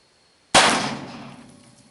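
Single loud shot from an Uberti 1860 revolver firing 230 grain .45 Colt bullets outdoors, a sharp crack followed by a decaying echo.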